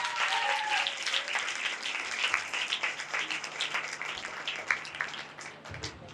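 A church congregation applauds for Jesus, with dense sustained clapping from many hands filling the room and a faint voice beneath.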